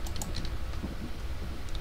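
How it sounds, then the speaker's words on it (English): A code being typed on a computer keyboard, a rapid run of light key clicks over a low background hum, with no speech. "I was typing in the code"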